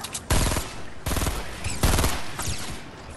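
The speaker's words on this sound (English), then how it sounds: "I'm getting shot from the side too." Rapid gunfire in Fortnite, the video game, strikes the player from the side in loud, dense bursts that come in several waves over a few seconds, with no talk over it.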